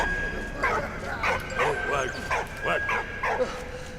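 A dog in the Valiant Hearts video game gives a quick series of about eight sharp, high yipping barks in an even rhythm, fairly close and clear over a faint background.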